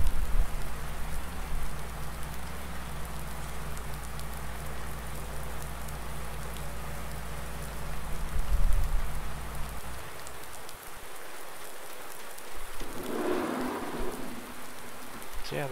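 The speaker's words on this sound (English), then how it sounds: "I think it said it was supposed to be raining." Steady rain falls in Farming Simulator 19, a continuous hiss over a low engine-like drone that cuts out partway through, and a brief louder rumble like thunder comes near the end.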